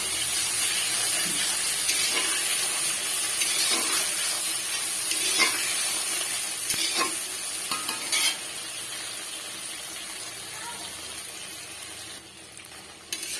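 Eggplant pieces fry in a pan for a hilsa fish curry, giving a steady, close sizzle and hiss with occasional stirring scrapes, and no one speaking.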